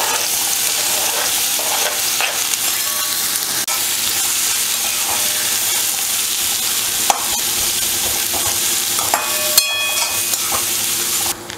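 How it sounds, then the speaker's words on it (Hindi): Steady, dense sizzling of onion frying in hot oil for raw banana kofta curry, with occasional stirring scrapes, continuous and close throughout, with no talking. "इसमें डाल देते हैं प्याज।"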